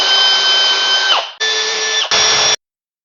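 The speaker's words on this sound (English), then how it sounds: "Now pre-drill." A power drill whines at high speed pre-drilling pilot holes for a gate, stops, then runs again in two shorter bursts before cutting off, close and loud.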